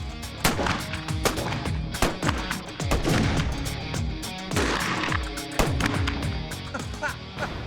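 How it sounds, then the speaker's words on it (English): Old western-style gunslingers firing revolvers at a collection of hats, a rapid series of loud, sharp gunshots with echoing tails, several overlapping in quick bursts. "our gunslingers take pot shots at their whole hat collection."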